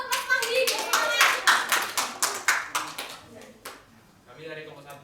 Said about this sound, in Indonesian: Tepuk tangan dong buat Mas Mahdi.